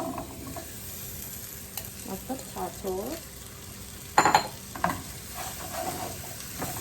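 Potatoes frying in a pan on a family breakfast stove, a steady soft sizzle broken by the scrape and clatter of a utensil stirring them, with a couple of louder knocks against the pan.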